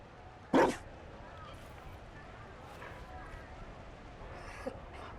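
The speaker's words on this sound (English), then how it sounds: "You found a dog?" Mabari war dog in the Dragon Age Inquisition Trespasser game giving a single sharp bark, followed by quieter ambient game sounds and a fainter yip near the end.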